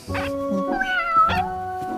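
Cartoon kitten giving a few short, high meows close up, with a voiced, animated quality and brief pauses between calls.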